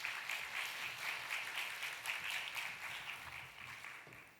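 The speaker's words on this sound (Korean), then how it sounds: "큰 박수로 환영해 주시면 감사하겠습니다." A church congregation applauding to welcome a pastor before the sermon, a soft, steady wash of clapping that fades toward the end.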